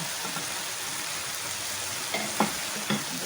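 Fried fish pieces being gently stirred into a sizzling gravy in a pan, with a continuous close hiss of frying and a few soft utensil scrapes near the end.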